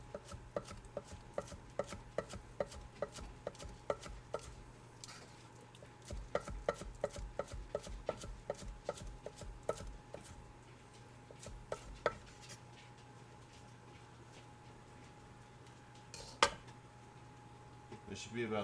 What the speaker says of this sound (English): we're going to cut these on an extreme bias, very, very thinly